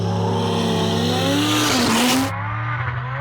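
Drag cars in a Tuner's Edge two-wheel drive shootout final, including a Nissan S15, launch with a loud sustained engine roar and rising revs, the howl climbing in pitch before cutting off sharply.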